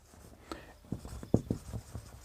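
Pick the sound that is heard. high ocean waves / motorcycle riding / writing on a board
writing on a board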